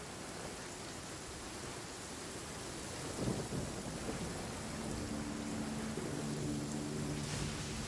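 Steady rain downpour inside the Genshin Impact video game, a dense continuous hiss of falling water at even loudness, swelling slightly midway, with a faint low tonal hum joining in later.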